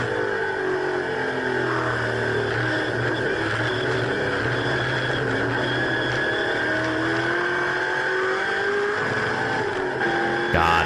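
An Australian muscle car runs on the Phillip Island race track, its engine holding a steady, sustained drone at some distance with little change in pitch.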